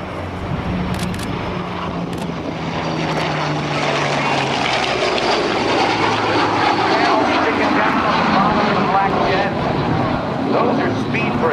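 A Yak-9 warbird fitted with an Allison engine drones loudly past at an airshow, its propeller engine tone shifting as it passes, while an announcer talks over it.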